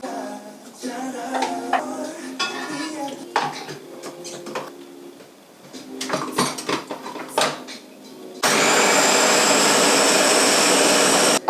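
Dishes and utensils clink and clatter at first; then a food processor whirs on, chopping fresh parsley and thyme with a loud, steady high-pitched drone that runs to the end.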